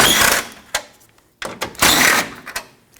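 Small 5.5mm screws being removed from the grille of a 1998-2011 Ford Ranger with a power driver, short loud whirring bursts separated by clicks and pauses, close up, with no talking.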